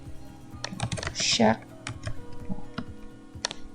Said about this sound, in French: chaque fois vous voyez un point, ça veut dire que j'ai cliqué sur la touche d'espace, la grande touche au milieu du clavier